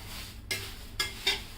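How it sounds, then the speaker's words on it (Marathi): Thin poha is stirred and roasted in a thick kadhai over a low gas flame, making three soft, close scraping sweeps with a light dry rustle between them. "आता आपण गॅसवर ना हे पोहे भाजून घेऊया"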